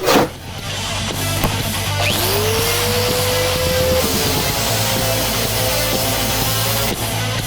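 A power tool grinds through a miniature ride cymbal in a garage, giving a loud, sustained whine with a rising screech that holds steady for several seconds, close up and with no talk.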